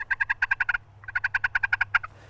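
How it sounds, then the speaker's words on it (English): A soft, rolling turkey purr made on a friction pot call with a peg comes in two short, fluttering bursts separated by a brief pause, close and alone. "The last common call we'll cover is the purr"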